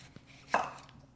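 A knife cuts through a cucumber in a single crisp slice that lands firmly on a cutting board, close and quiet, preceded by a faint tap.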